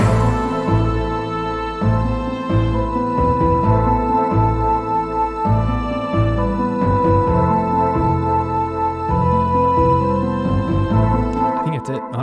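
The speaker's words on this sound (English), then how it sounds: "Final thing I gotta add are some timpani rolls in between the bars" A live-composed orchestral piece with timpani rolls placed between the bars as transitions plays loud and continuous, with a pulsing low-end rhythm under sustained harmonic layers.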